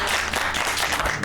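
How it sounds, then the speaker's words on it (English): An audience applauds after a baking masterclass on a cooking competition show, a short burst of dense, steady clapping close and loud throughout. "Another round of applause for her."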